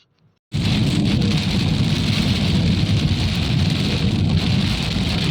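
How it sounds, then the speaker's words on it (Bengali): Heavy rain in a thunderstorm pounds on a car during a long drive from Kolkata toward Siliguri. After a short quiet opening the roar starts abruptly and stays loud and dense, with deep rumbling underneath. "আমরা এই ঝড় বৃষ্টিটা কিন্তু প্রায় মুর্শিদাবাদ অবধি পেয়েছিলাম"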